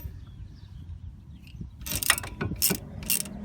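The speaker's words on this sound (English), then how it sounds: "Now I'm gonna have to use a wrench for that." A wrench working on the inner tie rod of a 2006 Nissan Sentra gives a few quick ratcheting clicks and metallic clanks close by, following a quiet stretch with no talk.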